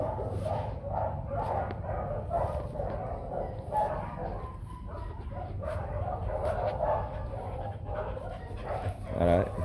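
A pair of white Bac Ha village dogs, a Vietnamese breed, bark and yip repeatedly at close range with whimpers in between, loud and busy throughout.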